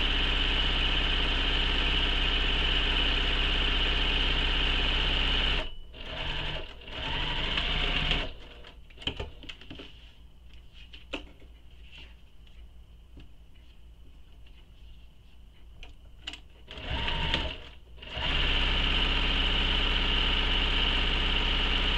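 Sewing machine stitching a handbag strap, a loud continuous whirring run that pauses in the middle for quiet fabric handling and short bursts, then resumes at full speed for a long final stretch.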